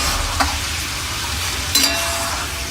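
Peanuts frying in hot oil for homemade kara boondi, giving a steady, dense sizzle with a couple of soft stirring clinks.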